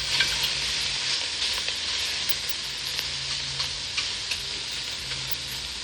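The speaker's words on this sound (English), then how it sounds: "we're gonna add the salt pork to the pot" Salt pork fries in a pot with a steady, close sizzle and small popping crackles throughout, with no voices.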